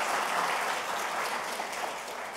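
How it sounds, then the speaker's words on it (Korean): Audience at a welfare policy forum applauding, steady dense clapping that fills the hall at moderate level throughout, with no speech over it. "박수 한번"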